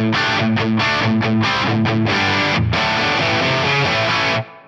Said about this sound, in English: Let's start with the main guitar tone.